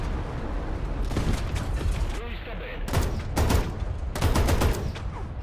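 Incoming gunfire rattles through a World War II battle in Enlisted or War Thunder, with bursts of machine-gun fire and sharp single shots. Bursts come in clusters over a steady rumble of battlefield noise, and a voice talks underneath.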